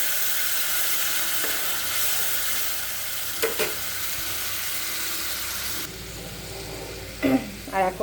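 Mustard paste dropped into a hot pan for a mango-eggplant curry, a loud continuous close sizzle with a few utensil clinks, the hiss easing partway through before more scraping and clatter.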